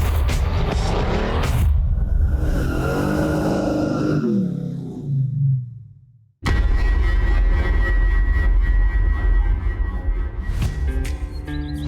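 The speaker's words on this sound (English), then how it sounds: "The car's sliding around a little bit, but we're learning." A loud race car engine on a hill climb course in Pineville, Kentucky, running slick tires, revs and whines up through gears, fades briefly, then another close engine roar with tire noise continues.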